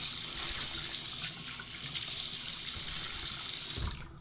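Water runs steadily from a sink tap into a basin as a face is warmed before a wet shave, a continuous close splashing hiss that eases briefly partway through and cuts off near the end.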